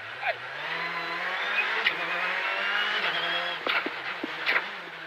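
A rally car powers through a hairpin on a special stage of the 51st Rallye Antibes Côte d'Azur 2019, its engine droning steadily with brief gear-change blips and tire noise, under a co-driver calling pace notes.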